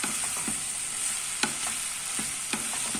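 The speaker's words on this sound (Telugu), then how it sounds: "ఈ కారం బాగా కలిపేటట్టు ముక్కలకు తగ్గేటట్టు బాగా కలుపుకుందాం" Bottle gourd curry with chili powder is stirred in a sizzling pan, a spoon scraping in a few sharp knocks over a steady frying hiss, close and alone.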